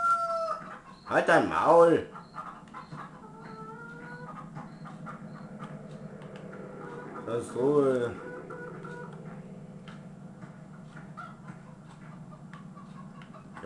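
Chickens on a farm in Landwirtschafts-Simulator 2015 cluck and crow in two short bursts over a steady background hum, while someone talks.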